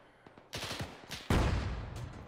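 Gunfire in Arma 3 set in a WWII battle, several rapid bursts of shots into trees, the last one loud and near with a rolling tail.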